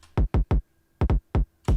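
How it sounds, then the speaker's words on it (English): A solo electronic kick drum sample, chopped up and sidechained within a music production project, punches out seven deep, clean hits in an uneven chopped rhythm, close and loud with silence between. "that's a kick on its own."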